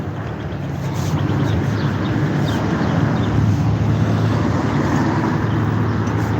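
A car out on the street, heard as steady engine and road rumble that rises and holds close by as it turns around, with wind buffeting the microphone throughout.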